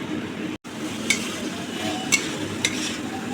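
Soaked, squeezed soybean chunks are stir-fried in hot oil in a pan, giving a steady close sizzle with a few scraping stirs and light clinks of the spoon.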